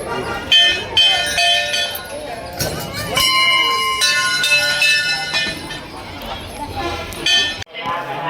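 Metallic temple bells are struck repeatedly, bright clanging tones ringing out and lingering over a busy background of clatter.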